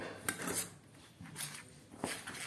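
Semolina, a little salt and milk are stirred together in a bowl into a batter for patishapta, with a spoon scraping and clinking against the sides. The scrapes come in a few quiet, close strokes, and no one speaks.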